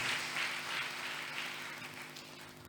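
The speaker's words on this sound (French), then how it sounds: "Est-ce qu'on peut applaudir pour le frère?" Congregation applauding during a church service, a soft, distant wash of steady clapping that slowly fades.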